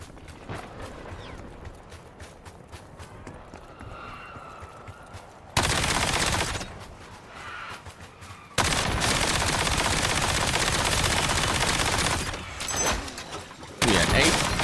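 Rapid bursts of video game gunfire, machine-gun fusillades in loud sustained stretches alternating with quieter gaps, close and dominant with faint talk in between.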